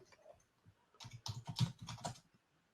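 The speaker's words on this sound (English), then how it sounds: "I'm typing." Typing on a computer keyboard: a quiet, rapid run of keystroke clicks in an irregular rhythm, close by, after a brief lull, with no voices.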